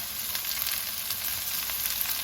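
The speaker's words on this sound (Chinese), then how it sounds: "把切好的葱姜蒜放进来。 稍微给它炒一下，炒出香味。" Chopped scallion, ginger and garlic stir-fried in hot lard in a wok, a steady close sizzle with faint stirring scrapes running throughout and no talking.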